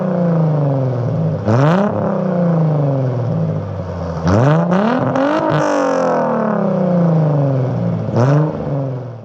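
A Chrysler Crossfire with a 12-inch cherry bomb glass pack exhaust revs loudly up close, with a steady idle broken by several sharp throttle blips and rising rev sweeps.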